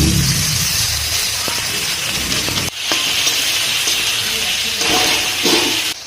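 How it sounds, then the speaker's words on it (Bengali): Chopped onion and green chili frying in hot oil for spicy chicken kosha, giving a loud, continuous dense sizzle and hiss close by, with occasional stirring scrapes. "এদিকে পেঁয়াজ কুচি আর লঙ্কা এখন দিয়ে দিচ্ছি"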